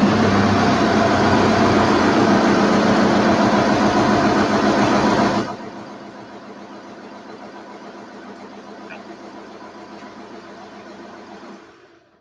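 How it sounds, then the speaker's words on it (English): A car engine runs loudly with a broad, steady roar for about five seconds, then drops to a quieter, even idle hum for the rest of the clip. The engine sounds close, and no one speaks. "I'll run around and start the engine."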